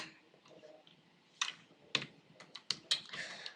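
Close computer keyboard typing while writing HTML and CSS code, with soft key presses followed by several sharper clicks in an uneven rhythm, heard alone without talk.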